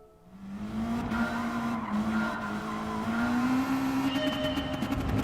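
A car in Gran Turismo 7 slides under the handbrake, its tyres squealing in one long continuous skid over a steady engine drone, loud and close with no talking.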